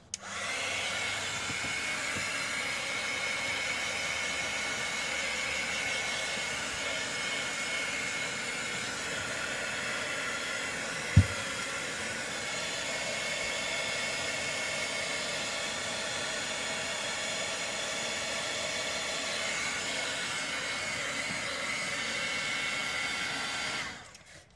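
Hair dryer blowing on freshly applied white paint on a rustic barn-wood craft piece, a steady, even whoosh running for about twenty-five seconds, with one brief knock partway through.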